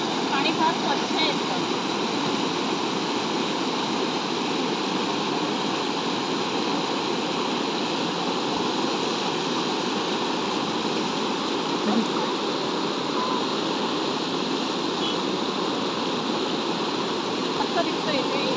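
A clean river rushing beside the Amboli Ghat road on the route from Sawantwadi, a steady broadband roar of flowing water that stays constant and close for the whole stretch, with no breaks or voices.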